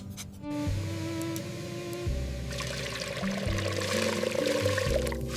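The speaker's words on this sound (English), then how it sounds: "Pours a little cold water into the bowl" Cold water pours steadily into a bowl, a continuous close splashing and trickling stream that fills the whole moment.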